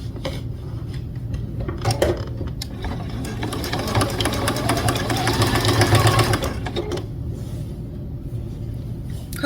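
A sewing machine stitches binding through several thick layers of quilt fabric and turns a 45-degree corner, giving a close, steady motor hum with rapid needle chatter that builds in the middle and then eases off.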